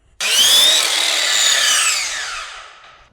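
A router cuts into wood to shape curved casing molding, starting abruptly with a loud, high whining cut that holds steady for nearly two seconds, then tapers off as the bit finishes the pass.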